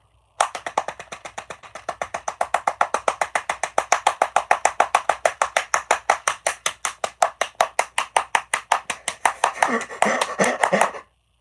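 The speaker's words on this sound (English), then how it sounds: "Let's give a round of applause to Glenn Close." A single person claps a long, steady run of evenly spaced, crisp handclaps, close and fairly loud, over about eleven seconds. The claps quicken and blur together near the end.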